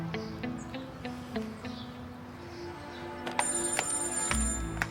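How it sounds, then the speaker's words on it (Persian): A mobile phone rings with a repeating electronic tone in a home while family gathers before breakfast, steady and moderately near, with no talking over it. "یوسف خان موبایلش در خانه فراموش کرده، کسی زنگ میزنه."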